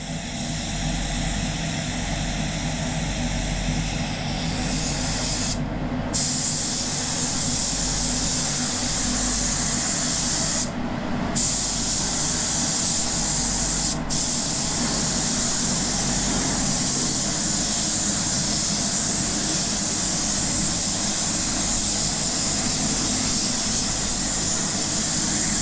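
A spray gun applies solvent base coat black paint in a car engine bay, giving a loud, continuous airy hiss with three brief pauses as the trigger is released, and no talking.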